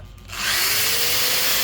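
A handheld electric drill spins up from silence and runs steadily at full speed, powered by a portable power station; a loud, close, continuous whine holds after the motor ramps up.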